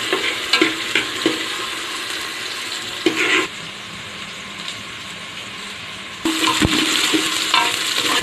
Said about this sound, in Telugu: మొత్తం మిక్స్ చేసుకున్న తర్వాత లైట్గా ఫ్రై అవ్వాలి